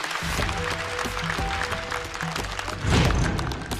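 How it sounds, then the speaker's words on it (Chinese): Studio audience applauding a stand-up comedian on a comedy competition show, a steady wash of clapping that swells louder near the end, with a host's voice over it. "再次掌声送给步惊云"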